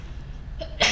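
A single sharp sneeze bursts out at the very end after a moment of quiet breathing.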